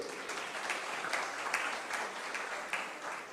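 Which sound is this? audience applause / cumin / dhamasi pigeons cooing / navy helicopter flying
audience applause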